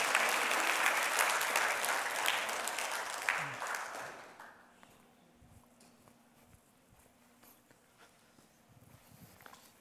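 A church congregation claps loudly for a few seconds, then the applause fades away to a quiet room with scattered faint taps and shuffling.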